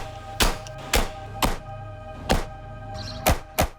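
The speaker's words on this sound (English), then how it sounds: "a firing apparatus that shoots encapsulated tree saplings into the ground" A firing apparatus shoots encapsulated tree saplings into the ground. Six sharp, close thunks land at irregular intervals, with no talk.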